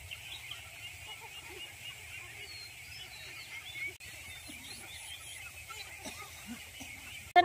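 A flock of domestic ducks being gathered into one spot during rice harvest season, with soft scattered quacks and calls at moderate distance over steady outdoor background noise.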